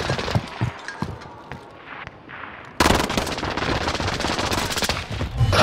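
Dense, loud automatic gunfire in Call of Duty: Warzone bursts in suddenly after a quieter stretch of scattered faint noises and keeps up a heavy, continuous rattle to the end.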